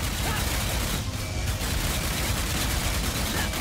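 A blast pistol fires in Ratchet and Clank: Rift Apart, in a dense, unbroken clatter of rapid shots. The shots are buried in loud, chaotic battle noise that stays at a constant level throughout.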